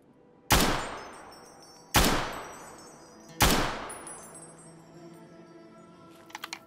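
Three single gunshots spaced over a few seconds in the game Fallout: Tale of Two Wastelands, each a sharp loud crack with a long decaying tail, followed by faint clinking.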